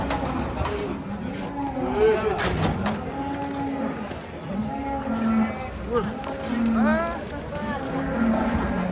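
Low moos from large cattle repeat several times at a moderate distance during unloading from a truck, mixed with people talking and bird cooing in an outdoor setting.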